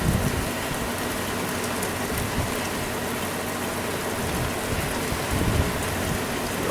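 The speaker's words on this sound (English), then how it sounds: "we're having another lovely rainstorm this afternoon" Heavy afternoon monsoon rainstorm pours steadily outdoors, a dense, loud, even hiss of rain falling on surfaces with no break across the stretch.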